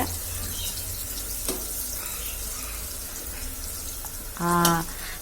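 Onions and spices fry in oil in a pan for mutton biryani, giving a steady near sizzle. Near the end a short tonal clatter or ring cuts in briefly.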